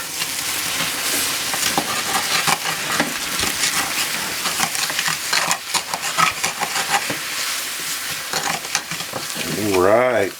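Goat chops sizzle and fry steadily in a pan, a continuous crackling hiss with small pops throughout, close and fairly loud.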